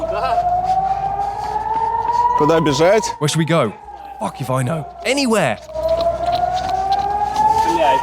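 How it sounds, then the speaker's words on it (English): A long wailing air raid siren rises and falls steadily in the distance while several people speak urgently over it, the tone continuing underneath throughout, during the Israel–Gaza war. "There's another siren"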